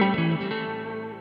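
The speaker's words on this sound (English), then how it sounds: "you turn the reverb on and you get," A Stratocaster through a Kemper profile with Fender-style spring reverb sustains a single chord or note that decays smoothly with an airy reverb tail, alone and without speech.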